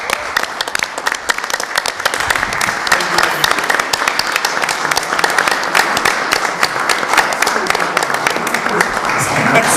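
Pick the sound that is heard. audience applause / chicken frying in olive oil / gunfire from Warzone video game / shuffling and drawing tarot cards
audience applause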